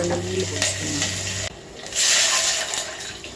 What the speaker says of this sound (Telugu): రెండు నీళ్ళు పోసుకున్నాం రెండు నీళ్ళు పోసుకొని